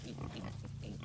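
A little piglet on a permaculture grazing farm makes a steady run of small, close oinks and grunts, repeating in quick soft bursts.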